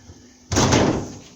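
The heavy door of an LG clothes dryer is taken off: a single solid thump and rattle of the door lands about halfway through, then fades quickly into a quiet room.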